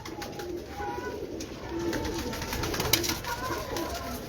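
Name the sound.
Jaunsra breeder pigeons cooing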